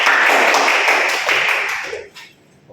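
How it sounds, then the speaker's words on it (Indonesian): A school class bursts into close, dense clapping that holds for about two seconds, then quickly dies away to near quiet. "Itu kasih tepuk tangan untuk kita semua."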